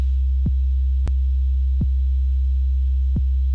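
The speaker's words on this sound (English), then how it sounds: "So what you're hearing now is the kick that we just simulated" Deep synthesized kick drum thumps repeat at an even pace, four hits over a low steady hum, dry and clean with no other sounds.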